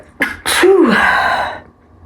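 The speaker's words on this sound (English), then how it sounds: "I'm going to sneeze, hold on," A single loud, close sneeze from a woman, with a short sharp intake of breath before the explosive burst, which fades over about a second.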